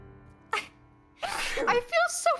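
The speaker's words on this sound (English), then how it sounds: "you literally get into this, like, sneezing situation for, like, an hour straight" A person sneezes once sharply, followed by a louder burst of voiced sound and brief talk-like cries, close and indoors.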